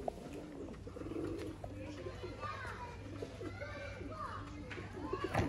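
Golden pigeons coo in soft, repeated low calls among other birds, with children's voices and play going on nearby.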